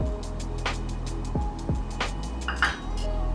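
Beef being mixed in a metal pot for breadfruit curry, with steady scraping and several sharp clinks of the spoon against the pot, close and fairly loud over a constant low background hum.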